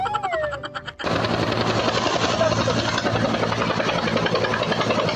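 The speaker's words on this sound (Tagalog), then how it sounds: "Ang lupit naman ng helicopter mo" A helicopter's loud, steady rotor and engine roar cuts in abruptly after a brief voice and fills the rest of the clip without letup.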